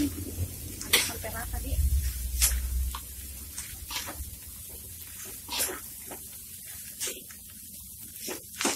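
Fried rice with skipjack tuna stirred in a hot pan, soft sizzling with intermittent sharp scraping and clinking strokes of a spatula against the pan, fairly quiet and close.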